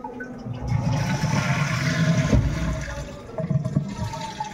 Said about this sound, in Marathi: हे बघा ॲटो फ्लश होईल.